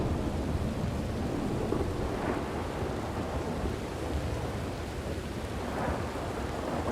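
A video-game thunderstorm in the Wild West of Red Dead Redemption 2 brings dense, steady hissing rain and deep rolling rumbles of thunder that swell and fade throughout.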